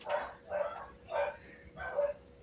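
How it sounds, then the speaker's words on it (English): Dogs barking in four evenly spaced, loud, nearby woofs over two and a half seconds, with slight yipping tones and no talk over them. "the dogs are freaking out"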